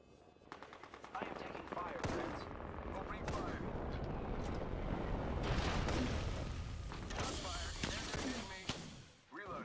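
Apex Legends gunfire: rapid automatic bursts and heavy booming shots pile up into a loud, continuous barrage, with in-game character callouts mixed through the firing.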